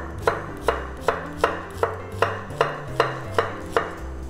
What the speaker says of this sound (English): Cut it down the middle like so